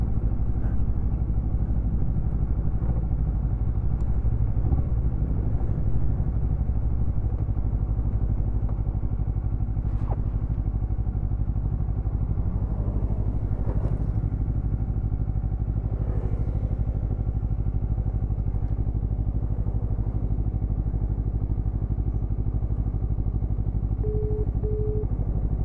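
A motorcycle engine idles steadily at the roadside, a low continuous rumble with occasional faint clatters, no talking.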